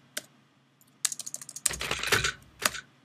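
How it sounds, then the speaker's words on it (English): Computer keyboard typing with a typewriter-like clack, in quick irregular bursts of keystrokes that thicken into a dense flurry and then stop, close and clear with no talking. "that's just the sound it makes, the whatever keyboard noise that is, probably from a typewriter"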